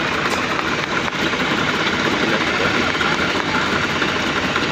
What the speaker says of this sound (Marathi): ते मिक्सर चालू ठेवण्यासाठी आपल्याला ट्रॅक्टर चालू ठेवावं लागतं